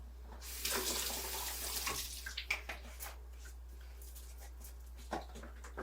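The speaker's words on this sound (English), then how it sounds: "I think I'll put a little water in here." Tap water pours steadily into a pot of chicken with barbecue sauce in a home kitchen, a continuous splashing fill with a few clinks of cookware.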